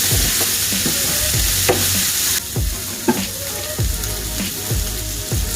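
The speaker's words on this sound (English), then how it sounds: "And then we can add the garlic. Let it also spread a little bit, get a little fragrance, and then mix it in." Garlic fries in a pan for beef stroganoff with a steady, close sizzle, punctuated by repeated scraping and tapping of a spoon as it is stirred. No talking.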